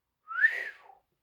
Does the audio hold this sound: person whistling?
yes